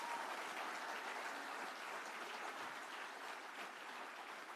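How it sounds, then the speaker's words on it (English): Applause from the audience at the 2021 Madera Speedway awards banquet, a steady, even patter of many hands clapping that holds for several seconds, heard at a moderate distance without voices on top. "Give them a round of applause if you would,"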